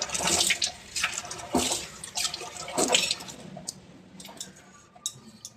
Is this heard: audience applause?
no